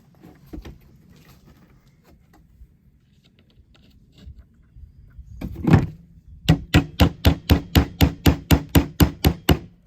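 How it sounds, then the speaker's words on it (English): A hammer taps a nail into a wooden nesting box, a fast run of sharp, even strikes close up after scattered handling knocks and quiet workshop noise. "I'll tap a nail in."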